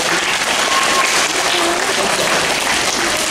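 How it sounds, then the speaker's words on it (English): A school assembly audience claps in a steady, dense round of applause lasting the whole few seconds, filling the room without pause. "Let's give Isaac a big round of applause."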